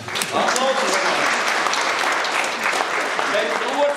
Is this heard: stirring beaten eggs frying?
no